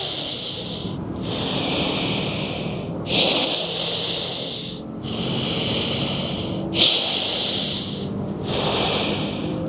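Forceful alternate nostril breathing during Anulom Vilom Pranayama, loud hissing inhales and exhales through the nose in a steady rhythm of about five long breaths, close and alone with no talk.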